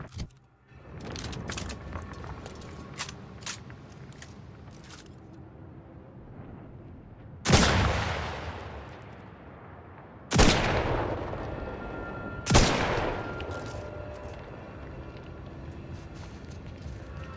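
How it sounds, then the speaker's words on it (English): Heavy marksman rifle fire in The Outer Worlds 2: three loud, booming single shots spaced a few seconds apart, each ringing out in a long echoing tail, after quieter scattered game noises. "I want to know more about this heavy marksman rifle thing."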